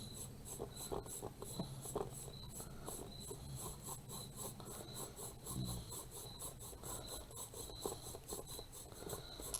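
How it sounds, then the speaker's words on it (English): A surface on a handmade spell book is lightly rubbed, producing a close, steady, dry scratchy rasp in quick repeated strokes with no talking. "you can always come back and just lightly rub some of that off"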